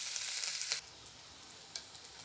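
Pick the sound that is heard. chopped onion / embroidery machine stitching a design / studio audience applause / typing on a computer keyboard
chopped onion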